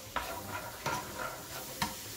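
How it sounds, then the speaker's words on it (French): Salted vegetables and onions sautéing in a pan for a lamb shepherd's pie, with a quiet steady sizzle and several distinct scraping stirs spaced through the short stretch, no voices. "on va faire revenir les légumes dans un premier temps"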